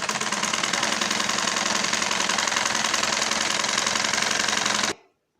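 An electric sewing machine runs steadily, stitching palazzo pants fabric in a fast continuous motor whirr with a rapid needle patter, loud and close, then stopping abruptly near the end.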